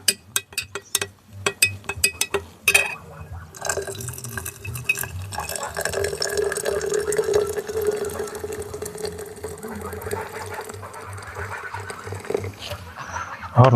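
Water runs and splashes over silver crystals being rinsed of caramel residue during refining, a steady close trickle with faint clinks, preceded by a few sharp knocks.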